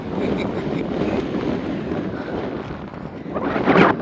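Steady, strong wind roars across the microphone with a broad rushing noise, swelling into a louder gust near the end.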